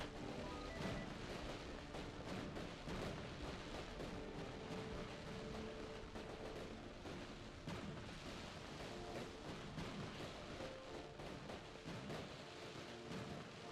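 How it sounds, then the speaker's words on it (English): Fireworks display in the Mars colony game Surviving Mars, a dense, continuous barrage of crackling bursts and booms filling the whole stretch at steady high loudness with no talk. "let's have some fireworks"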